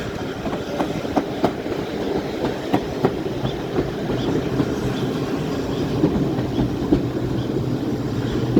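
A train hauled by the A1 class steam locomotive Tornado 60163 rolls steadily through Sharpthorne Tunnel, with a continuous rumble and rhythmic clickety-clack of wheels over rail joints, close and loud with no talking.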